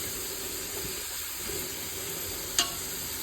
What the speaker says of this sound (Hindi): यहाँ पे हमारा साइड में प्याज जो है ना वो भी पक रहा है।